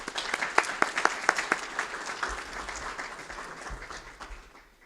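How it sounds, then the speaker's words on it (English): An audience at an evening event honoring a chief justice claps, opening with a few sharp distinct claps before a softer spread of applause that fades toward the end. "So I believe that he deserves a big round of applause, please."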